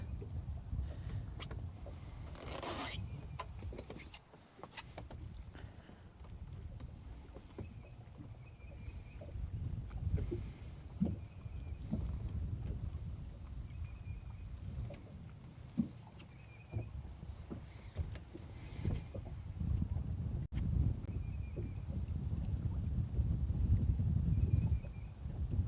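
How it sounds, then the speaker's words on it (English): Wind buffeting a boat on a lake during fishing, low rumbling gusts rising and falling over about half a minute with occasional knocks and faint water sounds, no clear talking. "Oh, now the wind wants to blow."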